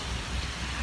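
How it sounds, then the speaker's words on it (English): Rain falls as a steady, even hiss of drops on surfaces, constant and moderately loud for under a second with no other sounds. "And now it's raining"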